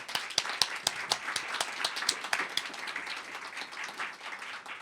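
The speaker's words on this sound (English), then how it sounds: "how about a round of applause for these two also" Audience at a National Press Club event applauds, a moderate, thinning round of individual claps heard at some distance, with distinct sharp hand claps standing out.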